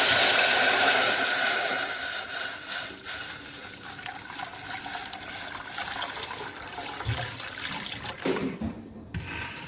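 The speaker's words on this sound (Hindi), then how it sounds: "अब हम एक स्टील का पैन लेंगे, उसमें हम पानी डालेंगे जितना हमें ज़रूरत है।" Water pours steadily into a steel pan, a loud, close rushing splash that gradually eases into trickling and bubbling liquid.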